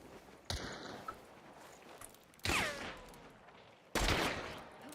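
Gunfire in the Escape from Tarkov video game: three sharp shots spaced a second or two apart, each with a ringing tail, over faint background noise.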